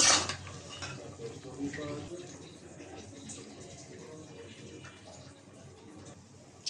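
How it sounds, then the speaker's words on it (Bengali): Cauliflower and potatoes are sautéed with spice paste in a pan for a katla fish curry, opening with a loud clank and scrape of a utensil against metal, then softer stirring and rustling beneath a voice. "ফুলকপি আর আলু, মশলার সাথে একটু কষাই নেব"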